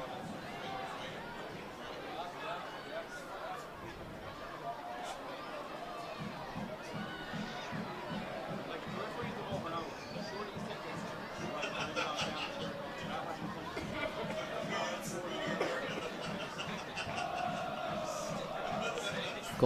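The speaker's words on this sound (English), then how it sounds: "Galway United crowd not too far away from that incident in full voice" Galway United supporters, the Maroon Army, singing in full voice in the stands during a league match against Longford, a broad sustained roar of crowd chant under close commentary talk.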